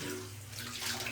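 Water pours steadily from a tap in a bathroom, a continuous broadband rush with no pauses, close and moderately loud throughout.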